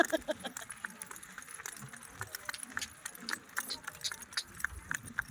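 Hooves clip-clop in a quick, uneven rhythm on a hard surface, mixed with jingling and clattering, with faint voices now and then.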